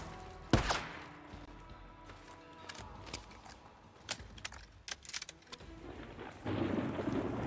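Video game rain and thunder from Days Gone: steady rain with a sharp thunder crack near the start, followed by scattered crackles and rumbles, the downpour swelling louder toward the end.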